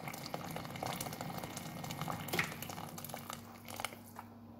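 Loubia, a white bean stew with meat, simmers quietly in a pot of water, with a soft, continuous bubbling and crackling texture and a few small clicks throughout.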